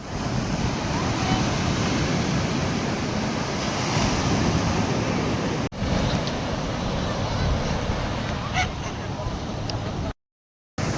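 Ocean surf at Besant Nagar beach in Chennai roars as a dense, continuous wash of waves under heavy wind buffeting the microphone, with brief faint sounds in the background and a short cut near the end.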